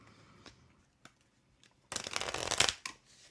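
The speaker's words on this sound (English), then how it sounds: "Judith, I'm shuffling for you right now, my dear" Tarot cards being shuffled by hand: a few soft isolated taps and rustles, then a dense riffling burst of about a second, close and fairly quiet, ending in a light settling shuffle.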